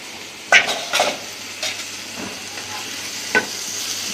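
Kharkol bata, a mashed kharkol paste, fries over low heat in a pan beneath a quiet sizzle, while a spoon scrapes and clacks against the pan in a few separate strokes.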